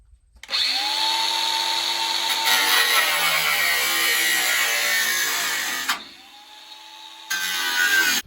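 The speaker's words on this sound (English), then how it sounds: "So we're just gonna take a side grinder and kind of grind a circle around that." A side grinder cutting a circular groove into metal on an old 350 engine, a loud steady whine that spins up, runs for several seconds, briefly drops away, then starts again, close by.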